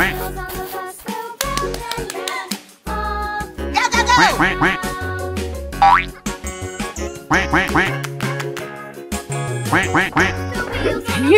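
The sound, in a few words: duck quacking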